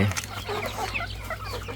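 Caged broiler chickens on a farm, penned up ready for sale, cluck and chatter continuously at close range over a low steady hum.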